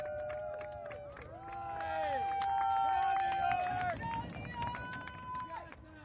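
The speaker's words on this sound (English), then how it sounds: "The crowd trying to cheer on the home team here" Spectators at an ultimate frisbee game cheer on the home team with a swelling mass of shouting voices, whoops and calls. The crowd noise rises to a peak midway and then thins out.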